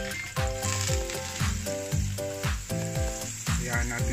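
Sisig ingredients, including chicken liver and pork brain, sizzle and melt in a hot pan with a steady frying hiss that runs throughout, partly covered by rhythmic background music.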